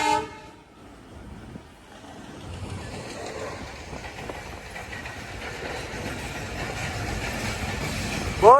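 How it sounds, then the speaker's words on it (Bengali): A train rolls past a road where cyclists are riding, its rumble and wheel clatter building steadily and staying close, with a short horn toot near the end. "বহুত দিন পরে এই রোডে ট্রেনের দেখা।"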